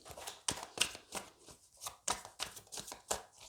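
Tarot cards being cut and shuffled at close range: a quiet run of crisp, irregular riffling snaps and soft slaps from the deck, separated by brief pauses.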